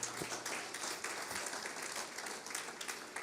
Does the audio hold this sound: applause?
yes